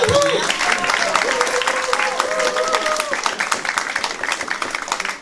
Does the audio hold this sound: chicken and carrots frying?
no